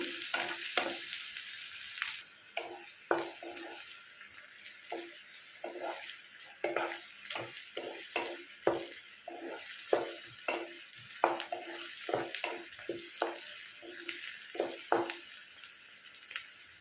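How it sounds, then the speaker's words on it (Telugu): Onions frying in a pan until brown, with a steady soft sizzle broken by frequent scraping and stirring strokes of a spatula, close and fairly quiet, no talking. "ఉల్లిపాయలు వేసేసుకున్నాం బాగా బ్రౌన్ కలర్ వచ్చే వరకు వేయించుకుందాం"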